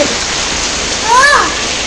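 Rain falls steadily while a family heads out, a dense, even hiss of downpour that fills the whole moment, with a brief high-pitched voice-like tone rising over it near the middle.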